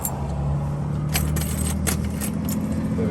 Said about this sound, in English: We've got a crap load of keys